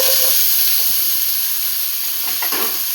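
Sweet corn kernels frying in hot oil in a pan, giving a steady broadband sizzle and hiss throughout, with a few soft stirring clinks and no talking.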